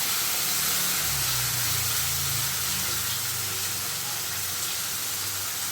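Spice paste for a sweet pumpkin chhokka sizzles in hot oil, a steady loud hissing spatter that holds without a break throughout, with a low rumble underneath.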